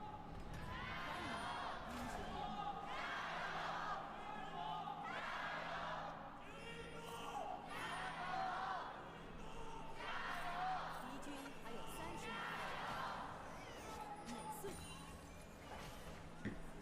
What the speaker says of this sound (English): Crowd has it from here.